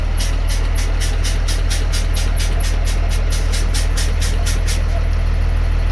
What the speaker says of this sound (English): With the bus started, I'm going to pump down my brakes to approximately 90 psi.